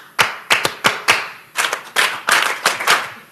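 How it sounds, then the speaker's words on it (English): An audience claps on request, first a few sharp single claps, then a series of louder spaced bursts from many hands, close and clear against a quiet room. "If you can hear me, clap once. If you can hear me, clap twice."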